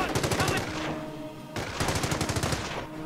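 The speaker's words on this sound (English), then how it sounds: "But unfortunately they have heavy machine gun there" Heavy machine gun fire in the Company of Heroes battle game, two long sustained bursts of rapid rhythmic shots with a short pause between them, loud and close, with no voices over it.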